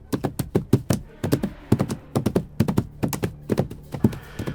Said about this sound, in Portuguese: eu também continuei a escutar aquele barulho de casco de cavalo